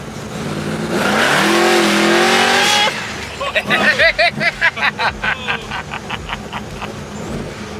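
A pro charged Ford Fairlane roars loud and near under hard acceleration, its engine note climbing for a couple of seconds, then breaks into a rapid series of pulsing bursts; people laugh and chatter over it.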